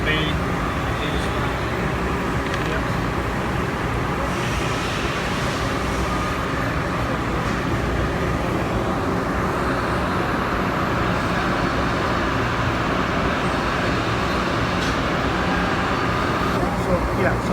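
An Okuma Multus B 750W/4000 CNC multi-tasking center runs its spindle at 5,000 RPM, giving a steady, unbroken mechanical roar that holds an even level throughout, with voices faintly mixed in.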